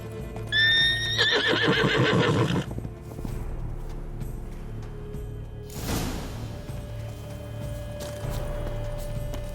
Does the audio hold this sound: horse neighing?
yes